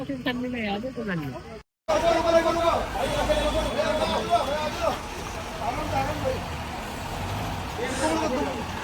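A truck idles and rumbles in a traffic jam on the road to a temple, with a hiss of air brakes and other vehicles around, under nearby chatter and background voices.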